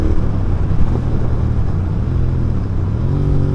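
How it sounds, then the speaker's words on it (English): GT 650 motorcycle engine braking after a gear downshift with no brakes applied, a loud steady low rumble from the engine that eases slightly in pitch as the bike slows, with wind noise and no speech. "that's how it slows down. That's your engine braking."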